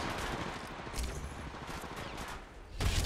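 Gunfire in the Apex Legends battle royale game, a dense burst of rapid shots and impacts running throughout, loud and close, with a heavier blast near the end.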